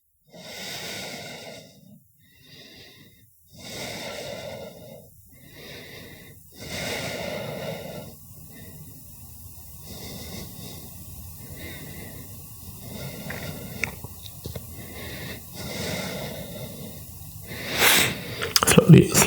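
Slow, deep breathing during a gentle shoulder stretch, with long audible inhales and exhales at a relaxed, even pace, close to the listener, and a few soft snorting breaths near the end.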